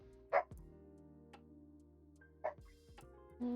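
A small dog barking indoors, two short sharp barks with a quiet gap between them over a faint background hum.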